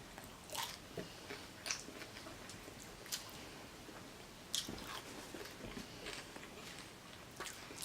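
Crisp bites and crunchy chewing of homemade crispy tacos, close and fairly quiet, with repeated sharp crunches scattered through steady mastication and no talking.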